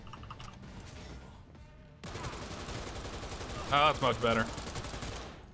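Auto pistol fire in Cyberpunk 2077 cuts in abruptly as a dense rapid stream of shots, with a few louder cracks toward the end and someone talking briefly over it.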